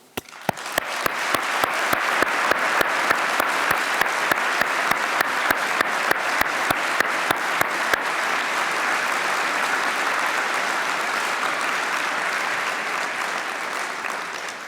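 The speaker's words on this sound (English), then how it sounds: "join me and my colleagues in thanking them with a round of applause" Graduates at a university ceremony applaud their supporters, a dense roomful of clapping, with one loud, rhythmic clapper standing out close by for the first several seconds before the even applause carries on alone.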